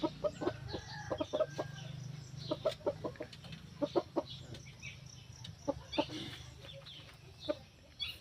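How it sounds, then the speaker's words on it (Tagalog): Two backyard roosters and hens cluck in short, irregular bursts close by, with sharp calls scattered across a steady low farmyard hum and no talk. "Yung dalawa nating manok na tandang."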